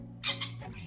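A recovering, malnourished parrot lets out two quick, harsh squawks close by, the second shorter than the first.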